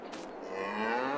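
A cow gives one long, close, loud moo in the video game Farming Simulator 22, with nothing else heard.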